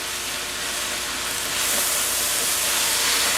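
Garlic cloves sizzling in a pot of green bean stew over medium heat, a steady dense hiss that swells slightly partway through, with no talking.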